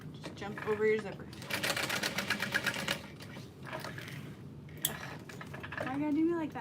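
Sewing machine stitching a backpack, running in short bursts of rapid mechanical chatter with pauses between, while a person talks over and between the runs.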